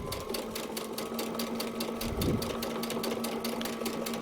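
Sewing machine stitching a paper-pieced quilt block, a steady rapid mechanical whir with regular stitch pulses, close and continuous throughout.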